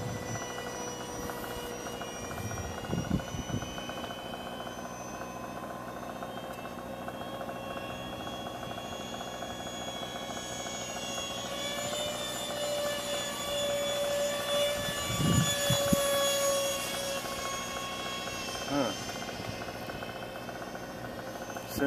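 An RC model T-45 Goshawk jet on its maiden flight with throttle eased back, producing a steady whining turbine drone with shifting tones as it passes, moderately loud and continuous outdoors.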